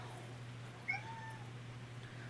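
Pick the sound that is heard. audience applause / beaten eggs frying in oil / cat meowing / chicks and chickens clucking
cat meowing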